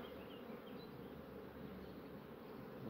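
Honey bees buzzing at a beehive colony in spring, a dense, steady hum heard faintly and continuously, with no voices over it.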